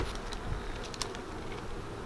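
Honeybees buzz around an opened hive on a farm, a dense steady drone close by with brief nearer passes, and no talking.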